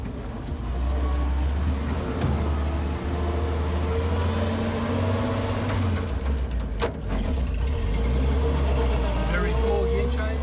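A 1945 Lohner Dodge engine drones loud and low as the driver shifts into second gear for a steep hill climb, the note dipping briefly at the change before pulling steadily upward again.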